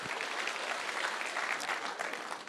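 Applause at a Kenyan gathering, a dense burst of many hands clapping together steadily and loudly throughout, with no voices over it.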